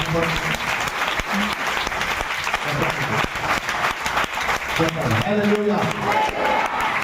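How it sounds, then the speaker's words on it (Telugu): A church congregation claps and applauds together in a sustained, dense wash of hand claps, loud and continuous, with a voice speaking over the applause. "ఉన్న వాళ్ళందరూ కూడా ఒకసారి చప్పట్లు కొట్టి దేవుడిని"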